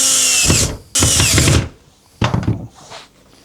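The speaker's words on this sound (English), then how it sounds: "using my pre-drilled blind holes, I'm going to easily secure this in place." A cordless power drill drives screws into pre-drilled blind holes to fix a solar panel cable gland base, with two short loud high-speed bursts followed by a softer, choppier run, all close up.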